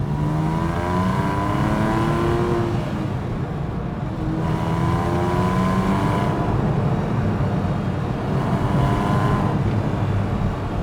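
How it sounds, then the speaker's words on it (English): A Porsche 997.1 Carrera S flat-six revving hard, three long climbs toward redline with brief dips between shifts, a loud, rich, continuous engine howl with no voices. "you can rev it up to the red line and actually have a good time and just enjoy listening to this"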